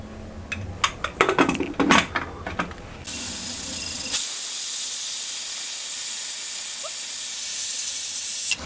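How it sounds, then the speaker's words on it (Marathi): A pressure cooker on the stove while cooking kombadi vade: a few metallic clicks and rattles, then a sudden loud, steady hiss of escaping steam that holds at full strength for over five seconds. "एक शिट्टी झालेली आहे."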